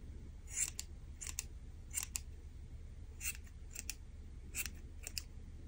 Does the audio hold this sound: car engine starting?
no